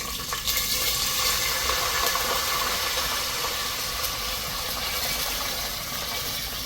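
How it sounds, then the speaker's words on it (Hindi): Water pours steadily into a pot for cooking rice with cashews and raisins, a continuous loud rushing splash that runs for several seconds without pause, heard alone. "तो अब इसमें डालना है पानी।"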